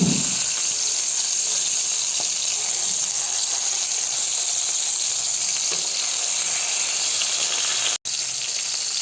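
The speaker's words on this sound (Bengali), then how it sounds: "মাছগুলো ভাজা হচ্ছে এক পাশ ভাজা হলে আমি অন্য পাশে উল্টে দিচ্ছি" Large koi fish fry in hot oil in a pan for a cauliflower and koi dish, giving a loud, steady, close sizzle that carries on throughout, with one brief dropout near the end.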